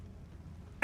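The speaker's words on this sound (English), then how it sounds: "Jeez, coughing up a storm over here." A single short, sharp cough or throat clear bursts out near the end of a quiet moment, close and loud.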